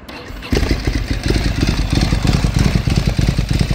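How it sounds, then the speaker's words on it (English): A Ducati 1000 dual-spark engine in a Lazareth custom cafe racer cranks briefly, then catches and settles into a loud, close, lumpy idle with a steady pulsing beat. "Let's fire this up."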